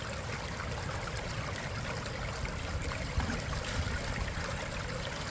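Water runs steadily through a gold prospecting sluice box in Indiana, a continuous close trickling and gurgling wash with a faint splash near the middle and no voices.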